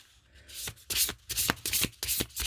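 Oracle cards are shuffled by hand, giving a series of quick papery riffles and soft slaps in close, quiet strokes.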